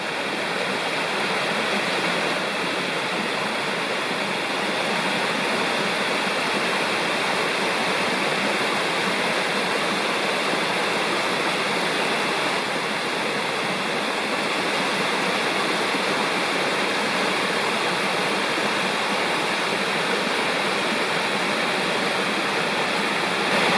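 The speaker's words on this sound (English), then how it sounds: "Incredible waterfall, maybe 30 feet drop." A waterfall of about thirty feet drops through autumn forest in Nantahala National Forest, giving a steady, dense roar of falling water that holds even and unbroken throughout, with no voices.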